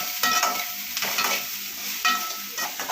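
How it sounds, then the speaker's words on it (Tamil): Drumstick stir-fry sautéing in a pan, a close sizzle broken by repeated scraping strokes of a spatula stirring at an uneven rhythm, with no talking. "இப்போ நல்லா வதக்கி விட்டுக்கலாம்"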